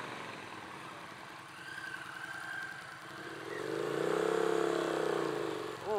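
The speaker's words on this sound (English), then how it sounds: "I'm on the Triumph Street Twin here." A 2017 Triumph Street Twin motorcycle engine idles with a low, even burble that builds into a brief rev midway and then settles, close and moderately quiet with no talking.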